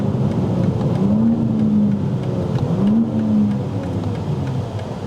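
2024 BMW M4 with the S58 engine, downpipes, a single midpipe and the factory muffler, revving up in two rising pulls with a drop between, a loud, close, raspy exhaust note and no talking.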